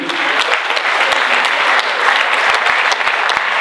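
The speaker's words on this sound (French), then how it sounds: "vous pouvez l'applaudir, bien entendu" Steady applause from a film festival audience in Gérardmer, a dense wash of clapping that holds at an even level throughout with no voices on top.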